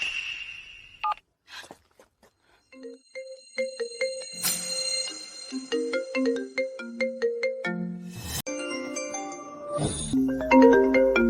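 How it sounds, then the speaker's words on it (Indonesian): A mother's mobile phone ringtone plays a bright electronic melody of rising and falling beeping notes, preceded by a few short tones, loud and clear for about ten seconds with no talk. "Kenapa aku bisa dengar nada dering ibuku di sana?"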